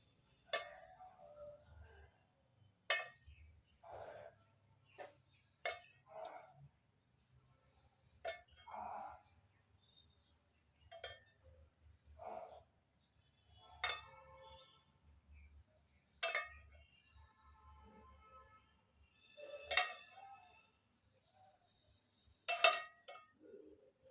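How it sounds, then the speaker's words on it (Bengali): Spoon repeatedly scooping a mixture into small Diwali lamps, a series of sharp clinks and taps spaced a second or two apart against a quiet background. "চামচ ভরে ভরে ভর্তি ভর্তি এই মিশ্রণটা দিয়ে দিচ্ছি"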